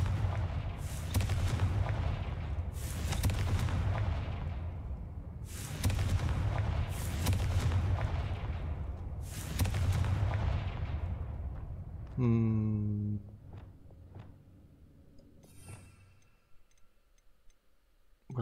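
The Confringo explosion spell in Hogwarts Legacy lets off four heavy, booming blasts at regular intervals, followed by a brief ringing tonal flourish and a fade into quiet.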